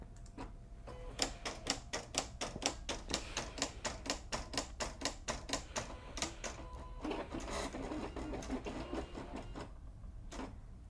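A Silhouette CAMEO cutting machine making a test cut on Siser Brick vinyl, a rapid rhythmic ticking and clacking of the moving carriage followed by a softer whirring stretch, close but quiet, no talking.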